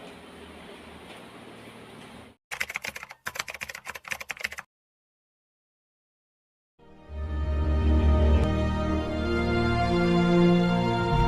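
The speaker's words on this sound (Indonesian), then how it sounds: "tolong ketikkan naskah ini" Indonesia's 1945 proclamation text typed on a typewriter in Jakarta: a short burst of rapid, uneven keystrokes that breaks off into silence, then loud music swells in.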